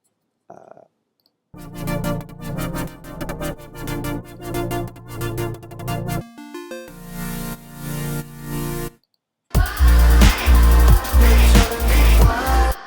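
Layered future bass synth chords from NI Massive with a steady sidechain pumping volume pattern, ending in a louder, punchier section with heavy bass hits in a quarter-note rhythm.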